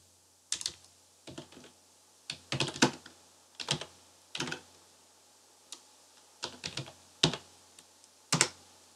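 Keys on a computer keyboard tapped in short irregular bursts while a date is entered into an Excel spreadsheet, close and fairly quiet, with no talking.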